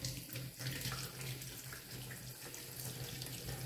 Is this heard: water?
yes